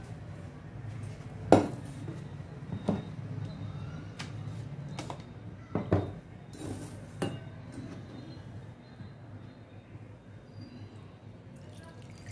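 Milk strained from homemade butter is transferred into a saucepan amid soft trickling and scattered metallic clinks and knocks of pots and utensils, fairly quiet with a few sharper clanks.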